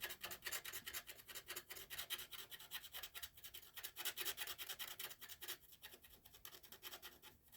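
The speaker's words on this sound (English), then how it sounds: "Ooh, that scratching's loud, isn't it?" A stylus scratches across a scratch art board in a fast, steady run of dry rasping strokes, close and fairly quiet, continuing without pause and with no voices.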